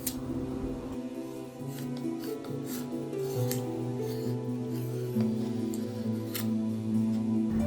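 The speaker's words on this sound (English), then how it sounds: "I cut off a smaller chunk of foam and start rounding off the edges" A hobby blade slices and rounds off a chunk of craft foam for a forest diorama, producing close, steady scraping and rasping strokes over a faint background hum.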